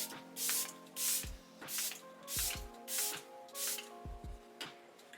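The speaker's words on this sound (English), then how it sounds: "I'm just gonna spray my face with this Charlotte Tilbury Flawless Setting Spray." Charlotte Tilbury Flawless Setting Spray mists onto a face in about seven short, close hissing bursts, evenly spaced, with brief clicks of the pump between them.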